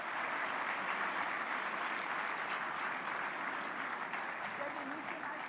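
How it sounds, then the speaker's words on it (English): Audience applause fills the plenary hall at Bharat Mandapam during an AI summit, a steady dense wash of clapping held at an even level throughout, with faint background voices. "Let's have a big round of applause."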